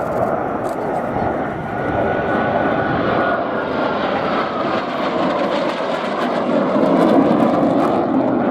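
Austrian Eurofighter Typhoon jets rumble and roar through a roll demonstration at an air show, a steady loud broadband engine noise that swells slightly toward the end, with a commentator talking over it.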